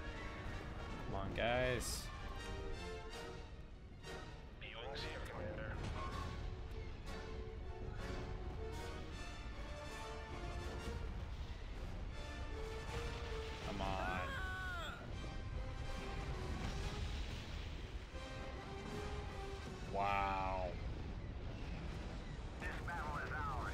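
Spaceship weapons fire in a Star Wars: Empire at War mod, with booming shots and blasts scattered throughout while someone talks over them almost the whole time.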